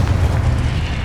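A Confringo fire-blast spell in Hogwarts Legacy lands as a loud, continuous, booming explosive rumble, heavy and close throughout the short moment.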